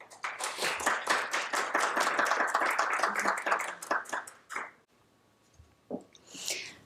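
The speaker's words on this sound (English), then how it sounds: "please give a warm round of applause to Dr." A conference audience gives a speaker a warm round of applause, dense close clapping that swells for about four seconds, then thins into scattered claps and near silence before a brief rustle.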